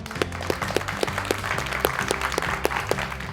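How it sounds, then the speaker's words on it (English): Steady rhythmic clapping by young children, about three claps per second, from a small group, with music playing underneath. "Let's clap for this good news."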